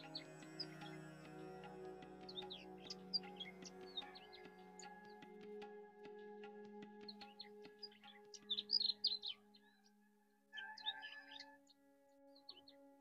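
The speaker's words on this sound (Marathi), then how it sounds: "पक्ष्यांचा आवाज ऐकायचा आहे." Birds chirp and tweet in short, scattered calls across a quiet morning yoga session, with a steady low background hum and a brief louder burst of song near the end.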